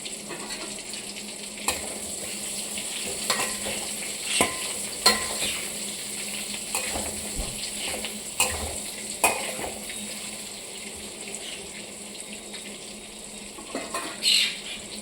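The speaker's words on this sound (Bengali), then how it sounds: "আলুটা ভাজি।" Potatoes fry in a pan with a continuous sizzle, punctuated by scattered clinks and scrapes of stirring against the pan throughout.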